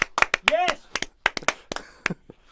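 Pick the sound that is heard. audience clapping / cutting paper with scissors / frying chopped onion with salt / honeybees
audience clapping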